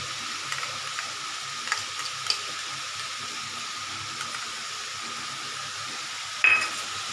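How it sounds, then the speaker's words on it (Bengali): Spice paste frying with onions in a pan for a spicy aar fish curry: a soft, even sizzling hiss with occasional light stirring clicks and a brief louder scrape near the end. "মশলা নাড়তে থাকি"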